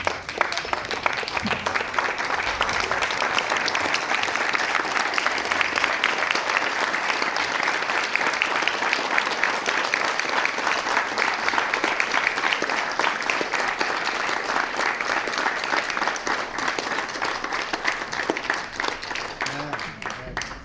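A large audience at a national victims' forum in Caracas stands and applauds for the victims, a loud, sustained wall of clapping lasting around twenty seconds without pause, dense and even throughout, with voices faintly mixed into the crowd noise.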